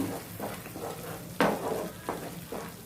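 Coriander and cumin powder stirred into hot oil in a pan for a chicken curry, with a steady low sizzle broken by several scraping stirs of a spoon, one louder clatter near the middle.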